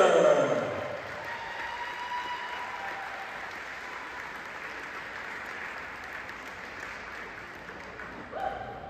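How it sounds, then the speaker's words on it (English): Sustained applause from a large audience at a basketball game, steady and even throughout, with a burst of cheering near the start and another rise at the end. "another round of applause for Lindsay Treader"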